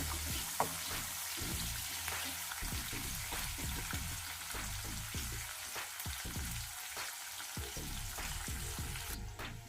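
Onions and curry leaves frying in a pan, a constant crackling sizzle with many quick stirring scrapes in a busy rhythm, close and moderately quiet, no speech.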